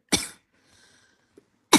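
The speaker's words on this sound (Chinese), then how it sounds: "你咳2声，你再咳2声。" A patient at a respiratory consultation gives sharp, close coughs on request. One cough comes first, then a faint breathy pause, then another cough right at the end, with no talking.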